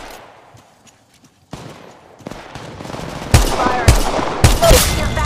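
Gunfire in Apex Legends Mobile: a few sharp single shots give way to loud, close rapid bursts of automatic fire that grow denser toward the end.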